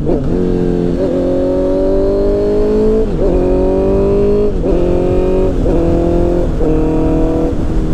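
A Honda CBR 650R engine revs loudly and close by through clutchless gear shifts. Its pitch climbs steadily, then dips sharply at each of about four quick shifts.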